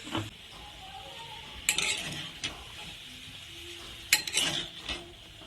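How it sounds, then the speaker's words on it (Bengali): A spoon stirring salted chicken pieces in a pan for a Bengali karahi chicken, with soft sizzling and clear scrapes and clinks of utensil on metal, turning the meat over in a few sharp bursts. "ভালো করে নেড়ে দিচ্ছি ওপর নিচ করে দিচ্ছি"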